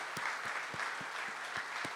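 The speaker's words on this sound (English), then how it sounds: "So give all of yourselves a fantastic round of applause." Audience of truck dealers applauding at a Tata truck launch event, a steady dense wash of clapping filling the room, with a few louder individual claps standing out in an irregular rhythm.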